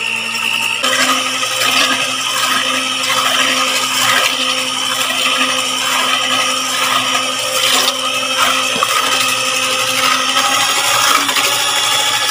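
An electric hand mixer beats four eggs for a strawberry jam cake, giving a loud, steady, high-pitched whir with a faint rattle that runs continuously and uninterrupted with no talking.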